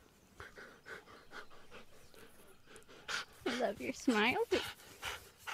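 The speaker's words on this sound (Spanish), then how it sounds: "este perro está gimiendo" A dog pants in quick rhythmic breaths, then lets out several high, wavering whimpers, close by, with a person speaking briefly.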